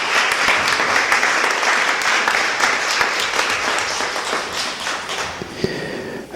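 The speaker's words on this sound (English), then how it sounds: "So let's give him a round of applause" Steady applause from an audience at a housing authority scholarship awards ceremony, many hands clapping together at close range and gradually thinning toward the end.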